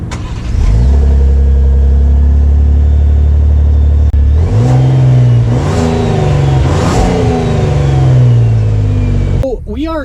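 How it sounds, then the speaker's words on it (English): A 2019 Lincoln Navigator full-size luxury SUV pulls away, its engine rising in loud revs with shifting pitch sweeps before settling, steady and close throughout. "Let's take it out to see how the Navigator drives"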